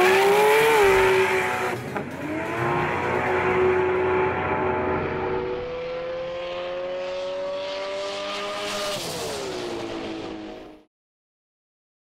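Mercury Motorsport Nissan R32 GT-R on Nitto radial tyres making a drag pass at over 180 mph, a loud high-revving engine howl climbing through gear changes before cutting off abruptly near the end.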